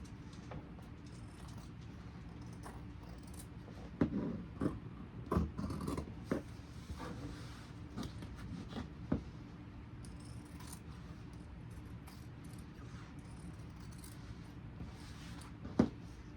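Quiet scissor snips and rasping cuts through thick denim from Levi jeans, in irregular bursts against a low background hum, with no voices.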